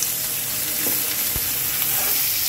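Onion and green chilli frying with garlic in a hot pan, a steady broadband sizzle with occasional stirring clinks, close and fairly loud with no talking.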